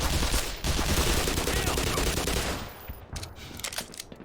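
Gunfire bursts and a grenade blast from the first-person shooter Black Mesa, loud and dense at first, then dropping to scattered quieter shots and impacts.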